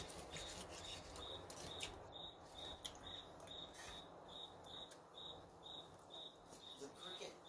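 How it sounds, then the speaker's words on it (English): A cricket chirps in quick repeated bursts, steady and faint, against a soft background hiss with occasional small clicks and no clear speech. "The cricket."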